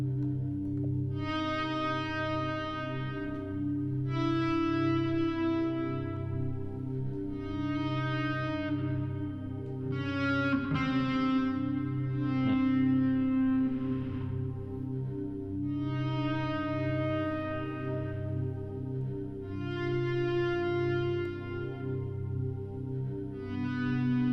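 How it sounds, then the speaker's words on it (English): Heavily distorted electric guitar playing sustained, buzzing chords with echo and swirling effects, loud and continuous. "The distortion we're getting sometimes"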